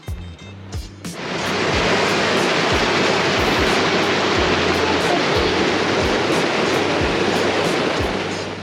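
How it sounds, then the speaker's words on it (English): A small waterfall near a mountain campsite on Black Bear Pass, a loud steady rushing roar of falling water that swells in after a second of quieter sound, with low thumping bumps underneath. "The baby waterfall by our camp."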